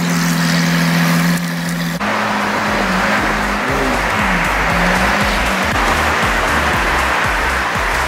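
A Lamborghini Aventador SV engine rumbles loudly at close range as the car is loaded onto a trailer, its steady growl shifting in pitch, with a rhythmic mechanical thumping in the background.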